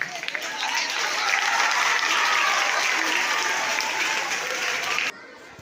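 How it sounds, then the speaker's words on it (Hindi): Students and audience clap together at a school gathering marking the first president of India's birth anniversary, a sustained, even burst of applause that swells, holds, then cuts off abruptly near the end. "कृपया शोर न करें, केवल तालियां बजाएं"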